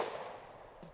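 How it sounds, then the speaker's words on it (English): A single sharp report from a standard 1911 pistol firing .45 ACP +P 230-grain ammunition: a loud crack at the start that decays over the second, with a smaller transient near the end. "let's take a shot with the standard 1911"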